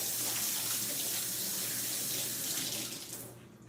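Tap water runs steadily into a kitchen sink during hand washing, a close, even hiss that thins out and fades near the end.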